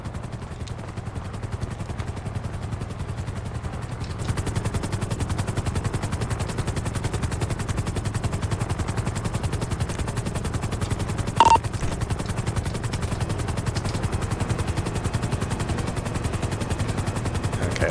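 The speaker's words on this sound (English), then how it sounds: "The other first helicopter is hovering above this one." A Coast Guard helicopter hovers above another helicopter during a cruise ship rescue in GTA 5, its rotor giving a loud steady rapid chopping throb throughout, with one brief sharp click near the end.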